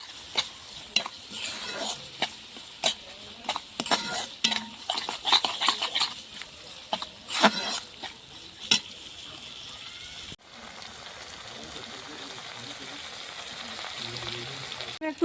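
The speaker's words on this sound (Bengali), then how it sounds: "মশলাটা আমার বেশ ভালোভাবে কষানো হয়ে গেছে" Spice paste mixed with nut paste fries and is stirred in a pan for an egg steam curry, giving crisp sizzling with repeated scraping, clinking strokes for about ten seconds, then a steadier low frying hiss; no talking.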